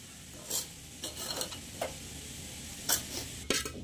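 A boondi mixture for laddu is stirred in a pan, giving soft, scattered scraping strokes over a faint sizzle, quiet and close, with no speech.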